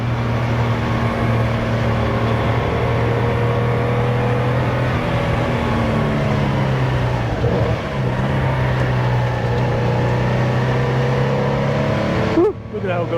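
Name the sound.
1970 Porsche 914-6 engine running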